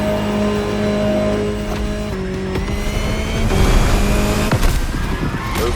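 An Aston Martin DB10 concept car in The Crew Motorfest racing game revs its engine in steady, loud drones, with the pitch shifting and climbing and a harder roar building toward the end.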